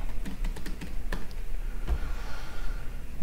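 Computer keyboard typing during a security operations walkthrough, a few scattered light keystrokes and clicks at moderate distance, alone with no talk.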